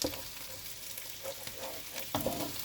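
Half a kilo of mixed vegetables frying in a pan for Goan pulao, a quiet steady sizzle with soft stirring scrapes, close up with no talk.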